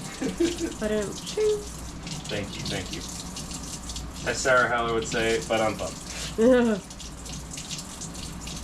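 Water runs steadily from a tap into a sink in an urban garden setting, a continuous splashing wash heard under a man's speech throughout.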